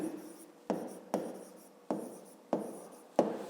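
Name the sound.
writing by hand on paper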